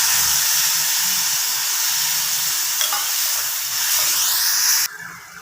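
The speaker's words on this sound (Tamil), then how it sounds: "தண்ணி விட்டு கொதிக்குது." Water bubbling and hissing in a hot pan with sautéed asafoetida and turmeric for snake gourd kootu, a steady simmering sizzle with faint scraping, ending in a sharper burst of steam.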